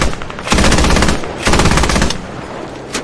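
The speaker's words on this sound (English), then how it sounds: "I'm getting shot at by someone." Sustained automatic gunfire in the military shooter Squad, with two loud, close bursts of rapid shots separated by a short lull and a few quieter trailing shots.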